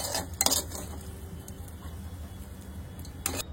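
Ghee-roasted rice for traditional kheer is scooped from a pan into a bowl, with a couple of metallic clinks of spoon against vessel at the start and end over a soft, quiet scraping.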